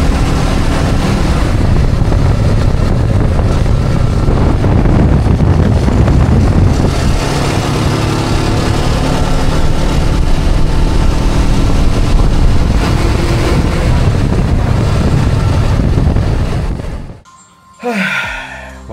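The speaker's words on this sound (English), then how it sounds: "We cranked up the speed, pushing the bike harder, the wind whipping past us as we raced toward Nha Trang" Steady, loud rush of wind and road noise from a motorbike speeding along a Vietnamese highway toward Nha Trang, continuous for most of the stretch before dropping away abruptly near the end.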